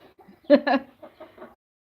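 A hen clucks close by in a garage where hens lay: two loud, quick clucks followed by a few softer, shorter ones, then quiet.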